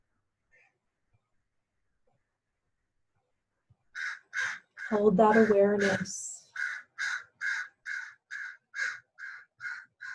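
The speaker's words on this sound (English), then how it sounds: "Perhaps you hear the crow joining us." A crow caws in a long, steady series of evenly spaced, fairly loud calls, with a calm voice speaking briefly just before the calls begin.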